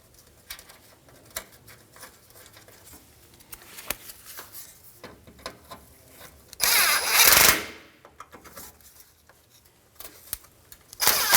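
A power tool briefly whirs as two bolts thread into the radiator bracket of a 2003–2011 Honda Element, one loud burst of about a second amid quiet shop clicks and rustling.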